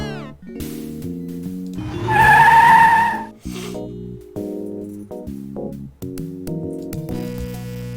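A cartoon car in the adventure game Sam and Max Hit the Road skids with a brief, bright tire squeal lasting about a second. Game music plays before and after it.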